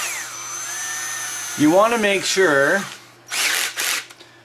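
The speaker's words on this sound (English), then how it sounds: "when you're drilling out a output drive" A drill bores out the output drive of an RC GMC TopKick truck, giving short whirring bursts up close, with someone talking before and between them.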